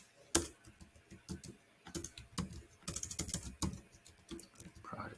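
Typing on a computer keyboard, with rapid clusters of close, crisp key clicks in short bursts, no talk.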